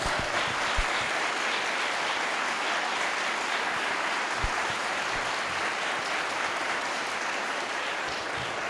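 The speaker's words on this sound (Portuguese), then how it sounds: "Você pode aplaudir Jesus?" A church congregation applauds during a sermon, a dense, continuous wash of clapping that holds steady for several seconds, with a few sharper nearby claps and faint voices mixed in.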